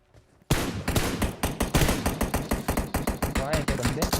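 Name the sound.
gunfire in the video game PUBG Mobile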